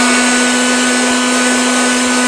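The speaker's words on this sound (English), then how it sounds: "we're going to turn it on to the vacuum first" A steady, loud motorized whirr with a constant hum drones on without a break, like a small vacuum unit running up close.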